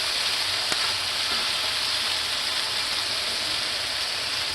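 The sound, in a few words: onions sizzling and caramelizing with smash burgers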